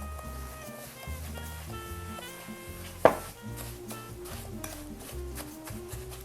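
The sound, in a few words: whisking brown sugar mixture in a bowl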